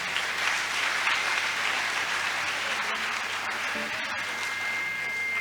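A church congregation at a Sunday service applauds loudly and continuously, a dense wash of clapping filling the room with no pauses.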